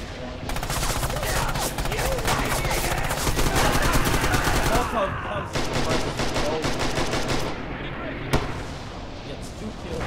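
Rifle fire in an online shooter match, with dense, rapid bursts of shots and overlapping gunfire running almost continuously and loud, plus a brief slam near the end.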